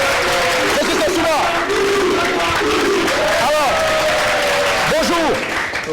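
Applause and cheering from a crowd at a university residence event, sustained throughout, with whooping calls and whistle-like pitched cries rising above the clapping at several points.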